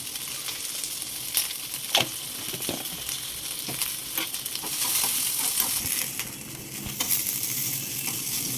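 Cumin seeds, about half a spoon, fry in hot oil with a steady close sizzle and crackle, broken by sharp ladle clicks and taps against the pan throughout.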